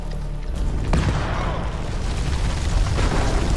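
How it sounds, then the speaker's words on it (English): Grenade explosion in the horror game House of Ashes: a dense, loud rumbling blast with a sharp crack near the start, followed by sustained low roar and debris-like noise, no voices over it. "Grenade!"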